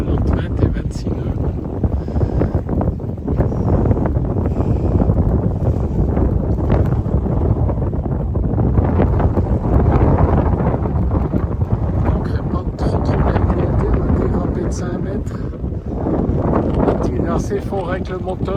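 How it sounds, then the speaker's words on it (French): Gusts of 20 to 26 knots batter a sailboat lying at anchor in a Turkish bay, a steady, loud roar of wind buffeting the microphone throughout, with hull and water sounds underneath. "actuellement on a quand même des rafales entre 20 et 26 nœuds"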